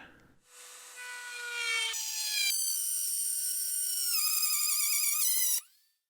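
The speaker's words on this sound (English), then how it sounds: "Last, we have this core box bit, and I'll once again be using the bit with the straight edge guide." Dremel rotary tool fitted with a core box router bit and straight edge guide cutting MDF, a steady high-pitched whine that shifts pitch in steps as the cut proceeds, then stops.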